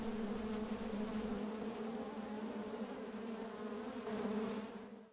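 Honey bees on an open brood frame from a hive drone in a dense, continuous buzzing hum, steady and fairly close throughout.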